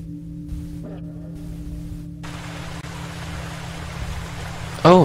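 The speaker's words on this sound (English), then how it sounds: "Oh, that's some running water in my ear." Running water of a forest stream in the horror game Blair Witch swells into a steady broadband rush partway through, following a quieter ambient stretch, with a brief voice at the very end.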